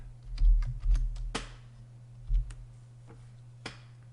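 Typing on a computer keyboard while entering a spreadsheet label in Google Sheets: irregular clusters of crisp key clicks with a few louder strikes and pauses between, close and alone over a low steady hum; no talking.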